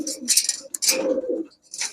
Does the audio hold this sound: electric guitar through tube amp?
no